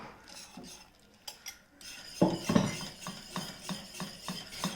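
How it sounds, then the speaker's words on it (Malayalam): Custard and cornflour mix is stirred into boiling milk, with a spoon clinking and scraping against the pot in quick, repeated strokes that grow louder midway. "പാലിവിടെ തിള വരുന്നുണ്ട്. ഈ സമയത്ത് നമ്മൾ ഈ കലക്കി വെച്ചിരിക്കുന്ന കോൺഫ്ലോറിൻ്റെ കസ്റ്റാർഡിൻ്റെ കൂട്ടുണ്ടല്ലോ, അത് ഇതിലേക്ക് ഒഴിച്ചിട്ട് കട്ടയില്ലാതെ ഒന്ന് ഇളക്കി കൊടുക്കാം"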